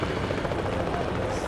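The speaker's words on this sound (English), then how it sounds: "Look at the helicopters." Helicopters flying overhead during a steelworkers' march in Newcastle, Australia, a loud steady rotor drone with rapid chopping pulses filling the whole moment, no speech over it.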